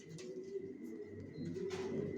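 Racer pigeons coo softly, a few low throaty calls rising and falling close by over a quiet background hum, with a faint chirp now and then.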